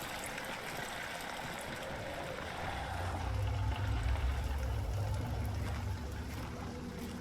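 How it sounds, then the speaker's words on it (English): Shower water runs in Amnesia: The Dark Descent, a steady, even hiss of falling water that swells slightly midway and continues alone with no voices. "Ah, let's have a shower."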